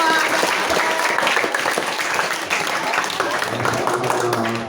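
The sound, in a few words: audience applause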